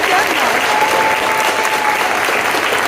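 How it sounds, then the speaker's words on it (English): Museum crowd at the Heard Museum in Phoenix gives a big round of applause, dense continuous clapping, loud and close, with some voices mixed in. "how about a big round of applause for Dwayne and Joe?"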